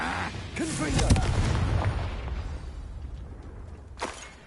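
Game explosion from a fire-blasting spell, a heavy boom with crackling bursts that rolls and fades, followed by a further sharp hit, mixed with a shouted voice and game speech.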